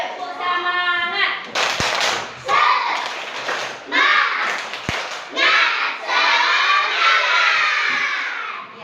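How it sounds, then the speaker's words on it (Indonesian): Schoolchildren in an Indonesian classroom perform a rhythmic spirit clap, chanting together between sharp group claps and thumps, loud and close, with young voices running through the pattern. "Tepuk semangat."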